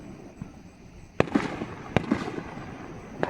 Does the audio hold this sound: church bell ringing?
no